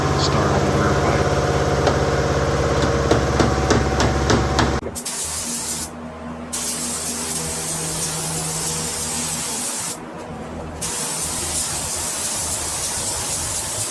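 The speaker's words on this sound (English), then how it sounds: "Tony's back at it, laying down a couple coats of clear" A spray gun lays down fast-drying clear coat during a car build, producing a steady, loud hiss; a droning mechanical hum runs underneath for the first few seconds, and the spray pauses briefly twice.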